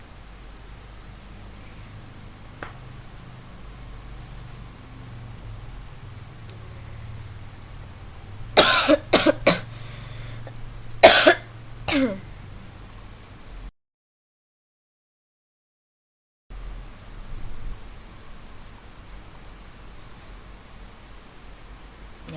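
A person with an acute, lingering cough lets out a quick cluster of harsh coughs and throat-clearing bursts against a quiet room hum, followed by a stretch of near silence.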